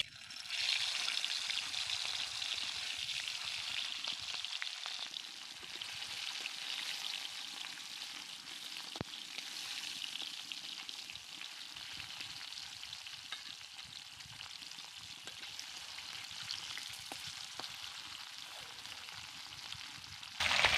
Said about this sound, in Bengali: মাছগুলোকে দিয়ে দেব মাছগুলো ভাজবার আগে তেলটাকে ভালো করে গরম করে নিতে হবে